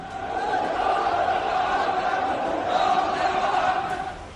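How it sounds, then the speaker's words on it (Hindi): A large protest crowd storming government buildings and the presidential palace in Baghdad, a steady distant roar of many voices blending into a continuous murmur with no distinct individual shouts. "राष्ट्रपति भवन से लेकर सरकारी इमारतों में घुसी भीड़"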